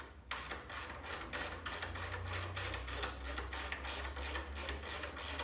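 A ratchet tightening a bolt on a Shovelhead motorcycle shock absorber, a quiet, fast, even series of clicks repeating about three times per second, with a low hum underneath.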